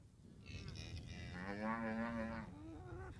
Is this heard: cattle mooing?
yes